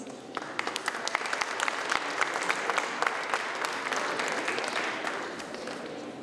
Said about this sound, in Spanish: Un aplauso para Cecilio Solís.